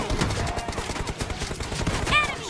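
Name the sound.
gunfire in PUBG Mobile video game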